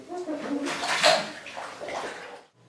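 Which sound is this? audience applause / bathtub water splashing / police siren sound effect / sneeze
bathtub water splashing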